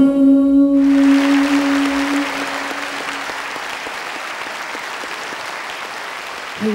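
Audience applause at a live concert of Vietnamese classic songs, breaking out loudly just as a sustained musical note ends, then carrying on as a steady wash of clapping from a large crowd.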